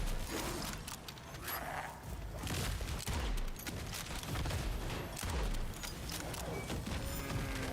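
Rapid bursts of gunfire from a gun in the survival game Nightingale crackle loudly and continuously, mixed with clattering mechanical and hoof-like sounds.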